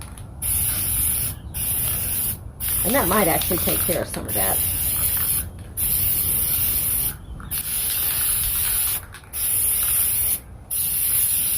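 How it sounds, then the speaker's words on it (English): Spray paint hisses steadily from a can in long bursts broken by brief pauses, with a voice speaking briefly near the start. "I'm going to go ahead and spray a coat of this on the inside of this as well"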